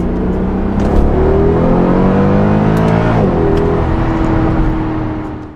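Mercedes E63 AMG W211 engine revving hard under load, a loud, close, deep roar that climbs steadily in pitch, briefly dips as it shifts gears, then carries on pulling without any talking.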